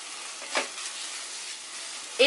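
A masala with a pinch of turmeric sizzles in oil over a medium flame, a steady close frying hiss with a brief stirring scrape near the start and a sharper crackle at the end.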